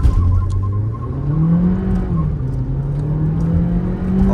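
A stock Hyundai Verna Turbo and a tuned VW Virtus GT accelerate hard side by side in a drag race, engines droning loud and close with rising, held revs as one car holds its gear.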